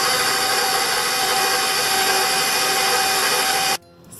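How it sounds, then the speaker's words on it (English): A KitchenAid stand mixer creaming at low speed, a loud steady whirring motor drone with a constant high whine, close by, cutting off abruptly near the end. "Okay, so the mixer started working again."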